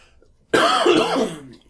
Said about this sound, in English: he's giving me some stuff to make me stop coughing